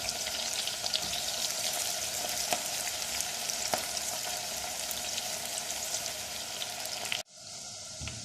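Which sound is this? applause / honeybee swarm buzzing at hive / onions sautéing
onions sautéing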